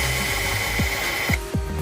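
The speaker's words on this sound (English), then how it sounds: "I drilled out those holes a little bigger" An electric drill enlarges bolt holes while a hatch wing is being fitted, its motor whining steadily at close range for over a second before stopping, with a few short mechanical clicks and knocks around it.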